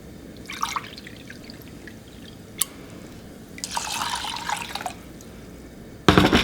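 Rice being rinsed with water in a pot for a vegan mushroom rice dish, heard as intermittent splashing and trickling bursts, close and moderately loud, with a louder rush of running water at the end.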